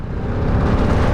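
Steady, moderately loud engine whir from a Vespa VXL150 scooter running, with no talk.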